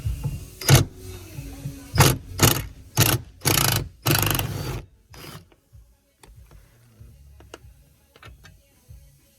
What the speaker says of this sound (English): So let's go ahead and loose this bolt up.